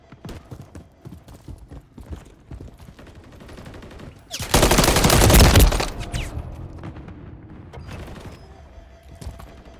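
Gunfire in the Modern Warfare 3 video game, a loud dense burst of rapid shots lasting about a second and a half, with scattered clicks and thuds before and after it.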